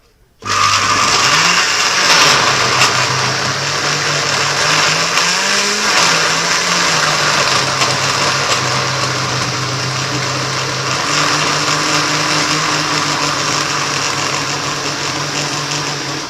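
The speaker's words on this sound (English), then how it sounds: "then we'll blend this one too." A blender runs steadily for about sixteen seconds, grinding cassava with water into a paste, a loud continuous motor whine with a slight pitch wobble as the load shifts, with no one talking.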